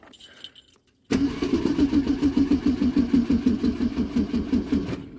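A Ford Mustang with a weak battery cranks after a moment of quiet, a loud, close engine churning in a fast, even pulsing rhythm for about four seconds before cutting off.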